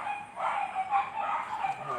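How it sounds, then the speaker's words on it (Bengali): Two foreign-breed dogs at a garden house yip and bark in short whimpering bursts, fairly faint and somewhat distant, with faint voices in the background. "কুকুর দেখতে পাচ্ছেন দুইটি কুকুর দেখতে পাচ্ছেন, বিদেশি দুইটি কুকুর।"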